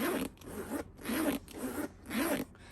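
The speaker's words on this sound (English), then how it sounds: "it's kind of helpful to open it and close it. The zipper is quite good." A handbag zipper is pulled open and shut several times in quick rasping strokes, close and clear, with no talking.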